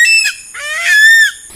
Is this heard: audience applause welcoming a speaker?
no